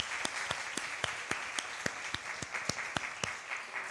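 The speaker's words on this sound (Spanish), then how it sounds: "Un aplauso." A church congregation claps in unison, sharp rhythmic beats about twice per second over a softer bed of scattered clapping, close and steady for several seconds.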